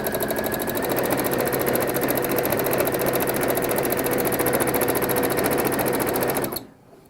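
A sewing machine quilts wavy cross-hatch lines behind applique with a loud, fast, steady motorized stitching whir that runs continuously, then stops abruptly just before the end.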